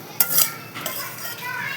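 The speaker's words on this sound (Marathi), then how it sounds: "आपण मीठ टाकून घेऊया आणि पुन्हा हे छान याच्यामध्ये परतून घेऊया" Barnyard millet being stirred with salt in hot oil in a pan for a fasting dish, a couple of sharp utensil scrapes near the start and softer clinks and light sizzle after, close and fairly quiet, no talking.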